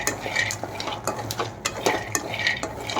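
Groundnuts being stirred as they dry-roast in a pan, a spatula scraping and clattering in repeated close strokes, with light rattling of the nuts between strokes.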